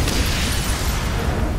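Building explosion in the video game Batman: Arkham City, a dense continuous rumbling roar with heavy low-end boom filling the whole moment, loud and sustained without any talk.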